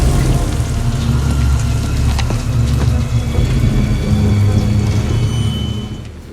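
Steady heavy rain falls in a war action drama scene, a dense unbroken hiss with a low rumble beneath it, loud and constant from start to finish.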